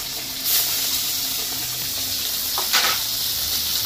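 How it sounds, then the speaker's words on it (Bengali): Pabda fish frying in hot oil in a pan, a loud continuous hiss and sizzle with a couple of brief sharper spits and pops. No one speaks. "এদিকে মাছটা ভাজা হচ্ছে"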